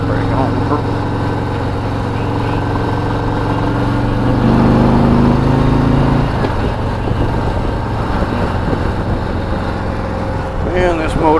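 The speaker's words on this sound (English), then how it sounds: "These new Milwaukee 8s are just fantastic engines" A 2018 Harley-Davidson Road Glide Ultra with a Milwaukee-Eight engine rumbles steadily while riding, loud and close, with wind rush and a brief rise in pitch midway.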